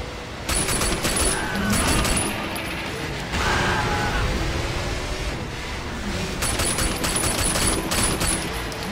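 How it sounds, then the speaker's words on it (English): Rapid mechanical bursts of gunfire in Sleeping Dogs while driving fast down a highway, coming in loud rattling volleys separated by short gaps over steady engine and road noise. "Driving down the highway at high speeds while also shooting exploding cars around you."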